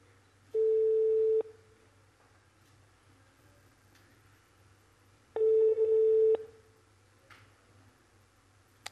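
Telephone ringback tones sound while a call is placed, two long steady beeps separated by a few seconds of quiet, loud and clean.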